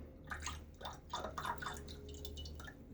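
A few quick wet flicks and spatters as water is shaken off a shaving brush knot, soft and close, in short bursts.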